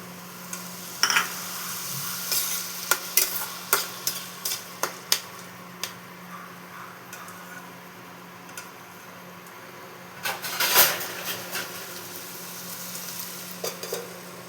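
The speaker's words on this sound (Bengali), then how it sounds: "এর মধ্যে আমি এই সেদ্ধ করা ছোলাটাও দিয়ে দেবো।" Boiled chickpeas are stirred in a frying pan with a faint sizzle underneath. A spatula gives sharp, irregular scrapes and taps, near and fairly loud, with a denser flurry of stirring late on. No voices are heard.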